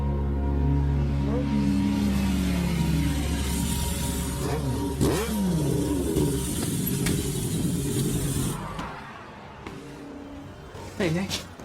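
A one-of-a-kind car from Napoli arrives with its engine revving loudly, then settling and cutting off, while voices speak briefly over it near the end.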